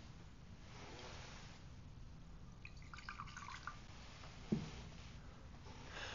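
A small trickle of water is poured into the wine in a chalice during Mass, heard as a faint, brief drip against the quiet hush of a church.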